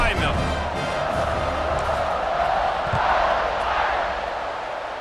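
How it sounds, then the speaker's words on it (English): Stadium crowd at a football game roars steadily ahead of a kickoff, a dense, continuous wash of cheering and shouting that holds loud throughout with slight swells. "this crowd now ready to get behind them"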